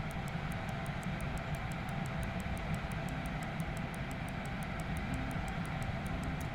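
A plane engine runs at full throttle in the Aviassembly video game, a steady, faint droning hum with a regular ticking pulse and no change in pitch.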